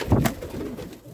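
Pigeons coo close by at an outdoor pigeon market in Malbork, a short burst of low throaty calls that fades into background bustle.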